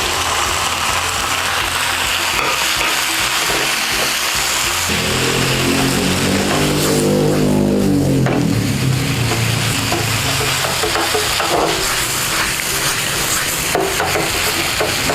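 Shallots, chili and garlic stir-frying in hot oil, with a steady loud sizzle and continuous scraping and stirring of a utensil in the pan, then a louder bubbling hiss midway.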